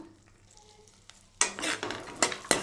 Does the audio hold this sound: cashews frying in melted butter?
yes